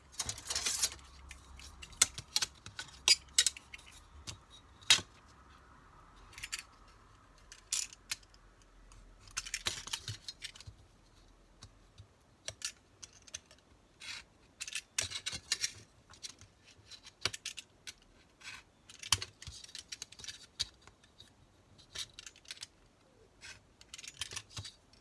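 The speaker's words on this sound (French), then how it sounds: "Et là, je vais découper avec mon cutter." A craft knife slices through card at close range, making faint, irregular scratchy clicks and short scraping strokes in otherwise quiet surroundings.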